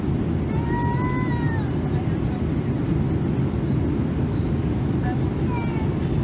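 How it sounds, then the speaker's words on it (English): A baby crying several seats away on an airplane flight at 40,000 feet, a few thin wailing cries rising over a steady loud cabin engine roar. "especially when you could hear that baby crying 5 seats away"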